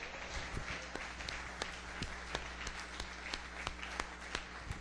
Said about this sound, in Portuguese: Vamos aplaudir o Espírito Santo que nos faz entender as coisas excelentes da graça de Deus.